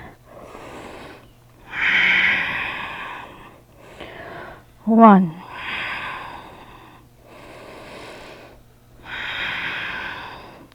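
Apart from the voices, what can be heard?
audible yoga breathing during downward facing dog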